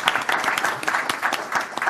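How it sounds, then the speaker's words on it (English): A crowd gives panelists a warm round of applause after a lively debate, dense and even clapping held steadily throughout at moderate loudness. "Let us give them a warm round of applause,"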